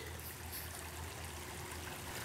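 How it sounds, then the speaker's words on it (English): Creek water flows in a steady, broadband wash with a low rumbling undertone, continuous and even throughout at a moderate distance outdoors at night. "There is the water of the creek."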